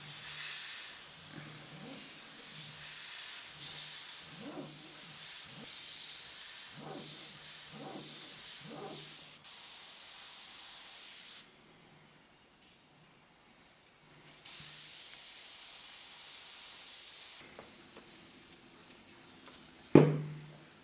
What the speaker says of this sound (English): I'm just going to use the freehand airbrush's ability to paint these hairs in